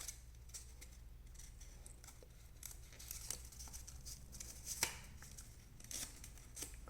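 Paper being folded and sharply creased for a 16-pointed origami ninja star, with faint, close crinkles, scrapes and scattered light ticks against a hushed background.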